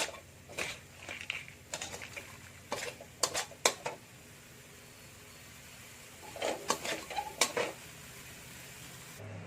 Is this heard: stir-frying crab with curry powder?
yes